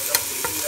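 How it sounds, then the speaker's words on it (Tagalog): Tomatoes frying in a home kitchen pan get a brief stir, a soft steady sizzle with a couple of quick scraping clicks, very short and close. "And then, haluin lang natin."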